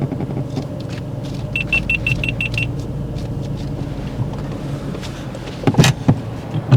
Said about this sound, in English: you can leave the car running